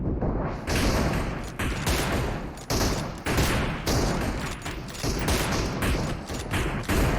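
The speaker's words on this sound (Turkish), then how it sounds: "Vallahi vuruyorum ya." Rapid bursts of gunfire from a PUBG match during an M24 sniper-rifle tournament, loud, dense and continuous volleys with sharp repeated shots over about seven seconds.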